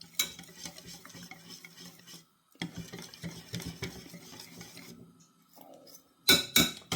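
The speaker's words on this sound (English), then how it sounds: "So what I do, I just mix it all like that." Spoon stirring a mushroom and rice mixture in a bowl before deep frying, with repeated scraping and soft clinks in uneven bursts, pausing briefly, then ending in a few sharper knocks.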